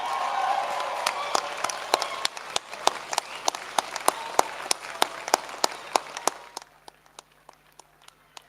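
Graduation ceremony audience of a nursing, midwifery and allied health cohort cheering and clapping in a large hall, a dense sustained wash of applause that thins to a few scattered claps near the end.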